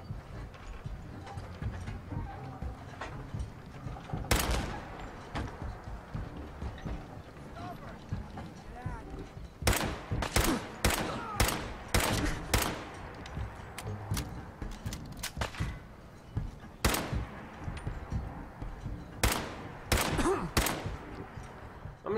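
Gunfire from Fallout 4 cracks out in sharp single shots and quick clusters, loud and close, with a player talking over the action and background game ambience.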